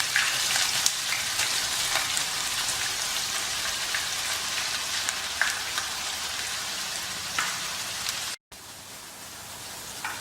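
Chopped onions sizzle steadily in a hot pan while cooking chicken pasanda, a continuous close frying hiss with a brief dropout near the end.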